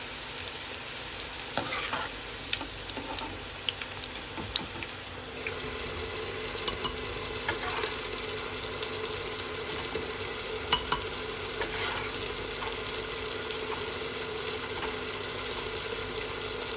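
Minced meat with bitter gourd frying and being stirred in a home kitchen pan, a steady close sizzle with scattered scraping clicks of the spoon throughout, no voices.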